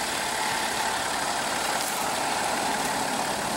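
A 2015 BMW X5 with a 3.0 L six-cylinder turbo diesel idles steadily, a constant broadband hum and clatter recorded close by without speech.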